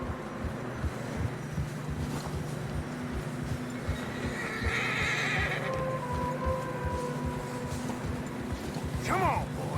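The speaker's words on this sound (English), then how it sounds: "Horses are struggling." Horses whinny and neigh while hooves trudge through deep fresh snow in a Western video game, with a steady rhythmic plodding under low voices and a louder neigh near the end.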